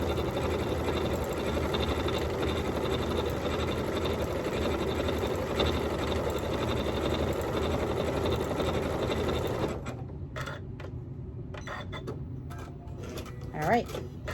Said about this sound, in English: I'm just going to stitch down along this edge now.